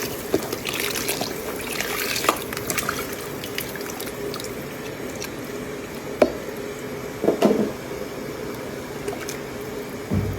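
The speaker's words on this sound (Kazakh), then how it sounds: "Енді біз осы дайын болған көженің үстіне мен сүт құямын." Milk trickles and splashes as it is poured over Nauryz kozhe, a soft liquid gurgle with a few louder drips and plops, quiet and close.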